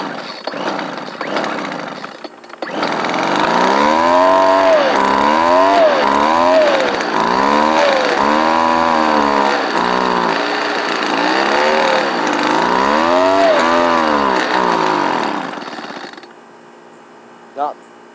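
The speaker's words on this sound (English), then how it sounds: "Let's see if she'll run. So I'm going to put it on choke, full throttle." A two-stroke engine with a Zama/Walbro carburetor starts on choke and revs hard and loud, its pitch rising and falling in repeated sweeping bursts before cutting out near the end.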